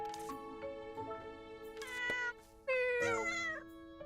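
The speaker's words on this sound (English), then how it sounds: "Kitty cat, no, come back." A cat meows in a video game, giving several clear, tonal mews, the last one longer and more insistent, over soft background music.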